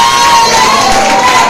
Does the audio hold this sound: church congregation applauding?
yes